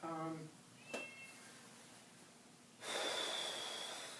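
A house cat lets out one short, clear meow at the start, followed by quiet breathing or snuffling and a rise in hiss-like background noise in an indoor art studio.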